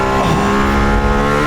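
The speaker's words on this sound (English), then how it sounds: "It's got a Formula One engine, a 2015 Formula One power system." A Mercedes-AMG ONE with its 2015 Formula One power system runs on the Nürburgring, a loud, close, high-pitched engine whine holding steady through a brief burst.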